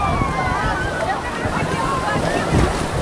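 Sea waves at Digha beach rush and wash in a constant roar, mixed with gusty wind noise on the microphone and faint voices of people nearby.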